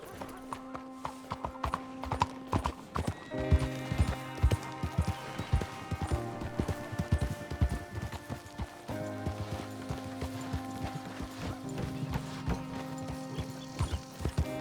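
Horse hooves clip-clop steadily along in the video game Red Dead Redemption 2, a rhythmic gait of repeated thuds under a bed of tonal game music, with brief vocal sounds mixed in.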